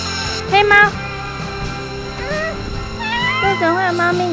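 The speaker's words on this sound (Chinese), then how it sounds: "它是黑豹黑猫。" A black cat gives several distinct meows, close by, between pauses, with people talking throughout and tea-farm ambience in the background.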